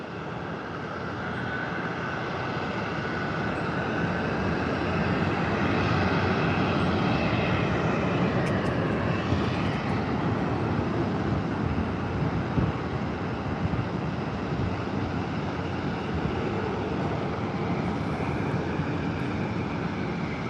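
A jet airliner takes off at San Diego airport, its engine roar swelling over the first few seconds and then holding as a loud, steady broadband rush heard from a distance.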